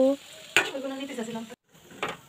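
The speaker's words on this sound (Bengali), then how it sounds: "এখন আর একটু ভাজা হোক, তারপরে আমি বড়াগুলোকে অন্য একটা পাত্রের মধ্যে তুলে রেখে দেব।" Lentil fritters (bora) fry in hot oil with a close, steady sizzle, broken by loud scrapes and clinks of a spatula stirring against the pan and a brief silent gap.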